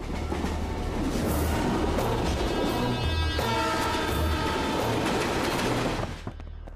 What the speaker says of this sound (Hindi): ट्रेन की आवाज आ रही है क्या?